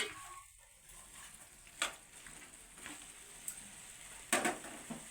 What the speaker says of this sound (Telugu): చూడండి ఫ్రెండ్స్, పైకి కిందకి మొత్తం ముక్కలకన్నీ పట్టేలాగా కలుపుతున్నారు.